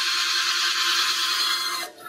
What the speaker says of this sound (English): run my drill,